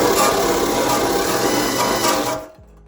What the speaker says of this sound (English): I have one of the wire wheels on here, and basically just turn the drill on, whatever speed you want.